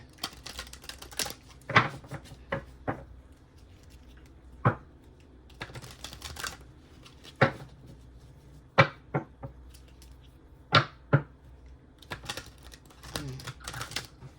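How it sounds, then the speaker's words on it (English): Tarot oracle cards being shuffled loosely by hand: scattered sharp, close snaps and riffles come in irregular bursts over a quiet background, some louder and some fainter. "Sloppy shuffle there."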